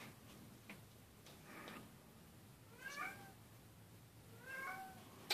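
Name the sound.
cat meowing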